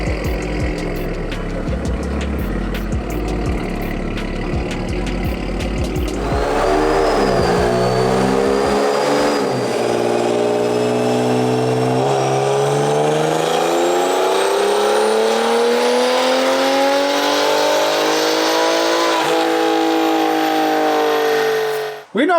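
A BMW 335i (F30) with a big turbo and performance mods idles on a dyno, then revs hard in one long, steady climb to high RPM before cutting off sharply at the end, loud and close.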